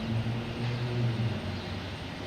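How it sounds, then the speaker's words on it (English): A Delta Boeing 737-800 airliner arriving from Miami at Boston Logan, its steady jet-engine roar droning continuously at moderate distance with a low hum beneath, no voices over it. "We have Delta coming in here, 737. 800 coming in from Miami."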